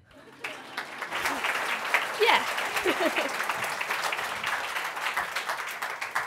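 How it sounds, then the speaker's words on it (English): An audience at an AI event applauds an invited speaker, with steady, dense clapping that starts abruptly and carries on evenly while a voice briefly speaks over it. "Please clap."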